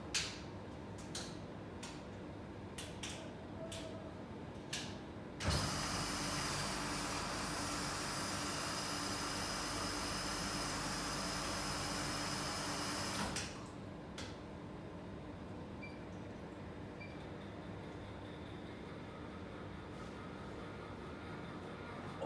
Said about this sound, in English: So let's just start off the pump.